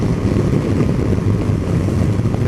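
A 2019 Yamaha Tracer 900 GT motorcycle riding at motorway speed, heard as a loud, continuous roar of wind rush with a deep, steady engine drone beneath, with no voices.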